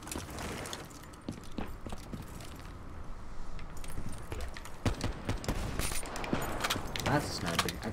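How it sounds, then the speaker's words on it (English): Sniper rifle and other gunfire in a Call of Duty Black Ops Search and Destroy match, sharp cracks and bursts scattered irregularly over a busy game soundscape with background clatter. "That's a sniper."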